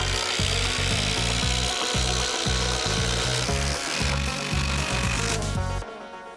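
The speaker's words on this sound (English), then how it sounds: "It's a lot smaller drill" A small power drill or similar tool runs in repeated bursts on wood in a backyard shipping-container build, loud and close, start-stop rhythm over steady hiss, cutting off near the end.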